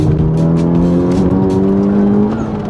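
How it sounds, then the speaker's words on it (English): A Honda Civic Type R on a base tune pulls hard through third gear, its engine note loud, close and steadily rising in pitch throughout, with no talking over it. "Nice little third gear pull coming up"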